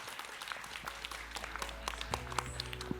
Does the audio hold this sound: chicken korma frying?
no